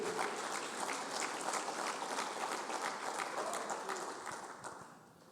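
Congregation applauding at a church service, steady dense clapping from many hands that holds for several seconds, then thins and fades toward the end.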